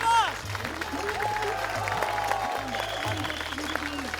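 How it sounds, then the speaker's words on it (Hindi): Crowd clapping at a village wrestling match semifinal, heard alongside loud background music with sliding tones, a fairly continuous patter of applause mixed under the score. "तो वो लोग जोर से ताली बजाई।"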